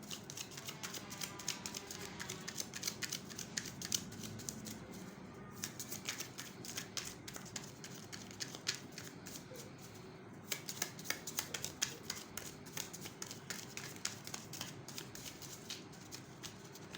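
Tarot cards from a slippery deck are shuffled in repeated riffles and bursts of dense, crisp fluttering, fairly close and steady, with brief pauses between rounds and no talking.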